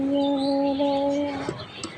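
Small birds being fed in a morning yard give a few sustained, close tonal calls, then fall quieter, with faint background noise.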